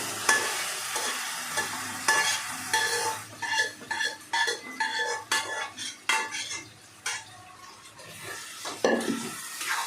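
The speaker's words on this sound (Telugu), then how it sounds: "పచ్చిమిరపకాయలు గోంగూరని బాగా వేయించాలండి" Green chillies and gongura paste fry in a pan while a metal spoon stirs them, giving irregular scraping clinks and knocks over a soft, steady sizzle, with no talk.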